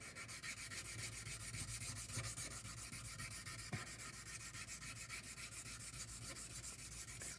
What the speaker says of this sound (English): Just keep on sanding down